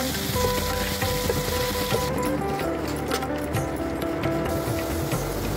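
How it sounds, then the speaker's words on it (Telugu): Cooked gongura dal (sorrel lentils) is stirred into a hot asafoetida tempering, giving a steady, close sizzle with scraping and clattering from stirring throughout. "ఈ తాలింపులో ఉడికిన గోంగూర పప్పు వేసి బాగా కలుపుకుందాం"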